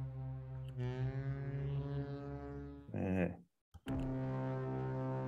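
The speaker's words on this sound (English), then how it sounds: "it's actually been sampled from an actual foghorn in real life" A sampled real foghorn, pitched down in music production: a deep, sustained low droning tone swells for a few seconds, drops out briefly, then returns steady and loud.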